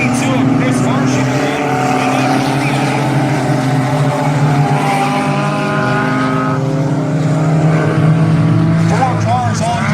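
Dirt track race cars at Valley Raceway roar past as a close pack battles for fourth place, their engines droning loud and continuous with rising and falling pitch while an announcer talks over them.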